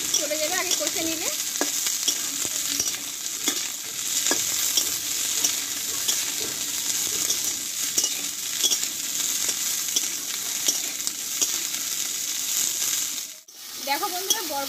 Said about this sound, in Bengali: এইবার এখানে কেটে ধুয়ে রাখা বরবটিগুলো আমি দিয়ে দেবো, দিয়ে কষে নেব একটু।